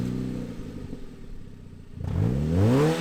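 Mazda MX-5 drift build engine revving, a steady mid-pitched idle-like drone that swells and climbs into a louder rising rev in the final second, no talking.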